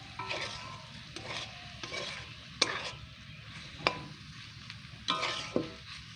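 Soaked paneer pieces are sautéed and stirred in a pan with a curry of yardlong beans. A steady sizzle runs underneath, broken by irregular scraping strokes of a spoon against the metal, and no one speaks.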